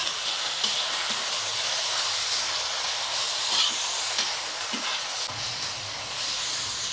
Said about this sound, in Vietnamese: Mình xào khoảng 30 giây.